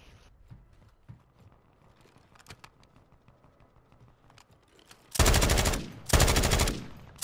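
Gunfire in a Call of Duty match arrives as two loud, rapid bursts of automatic fire, following a stretch of faint clicks and quiet background.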